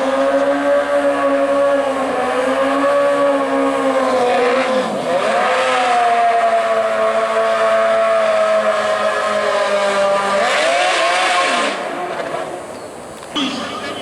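Two 2006 Kawasaki ZX14 motorcycles drag race at World Wide Technology Raceway, their engines a loud, sustained high whine that dips and climbs with each gear shift before fading near the end.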